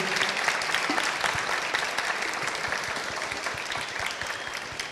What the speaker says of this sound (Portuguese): palmas para eles todos pela palestra